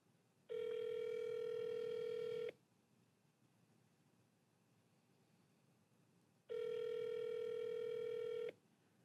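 A telephone call rings through toward an answering service, with two long ringback tones about four seconds apart and quiet line hiss in the gaps between them.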